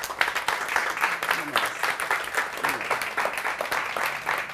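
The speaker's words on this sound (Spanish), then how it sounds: "aplaudan los chicos, por favor" Studio audience applauds children on an Argentine evening television talk show, steady dense clapping for several seconds with voices talking over it.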